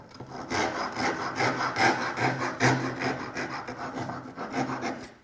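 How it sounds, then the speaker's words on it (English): A steel rasp rounds over the edges of a wooden tenon on a flip-top Lego table build, a steady back-and-forth rasping in repeated close strokes. "I prefer to round the edges of the tenon using a rasp."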